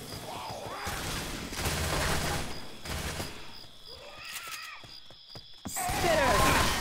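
Gunfire from the co-op zombie shooter Left 4 Dead 2 (Swamp Fever campaign): repeated bursts of shots and clattering impacts come in waves, loud and close, with quieter gaps between volleys.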